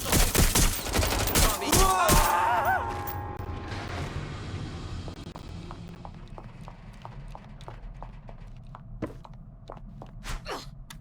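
Bursts of rapid gunfire in the video game Watch Dogs: Legion, loud and dense for the first few seconds, then fading into quieter scattered clicks and movement sounds.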